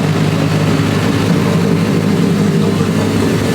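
A car's forged Nissan RB25 engine with a new exhaust runs steadily nearby, a continuous loud, low rumble with a rough, noisy texture and no breaks.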